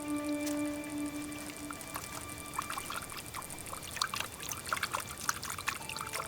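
Water trickles from a tiny natural spring in the desert, a soft, steady dribble and patter, with faint high tonal sounds and a low hum behind it and no voices.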